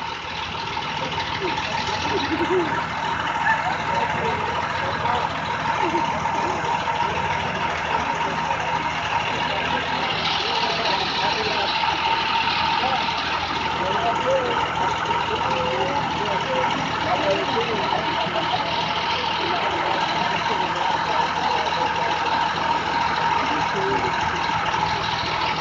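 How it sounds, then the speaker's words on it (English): City bus 960 sits idling, its engine holding a steady, continuous mid-pitched hum for the whole stretch, with voices now and then. "Bus 960 idling."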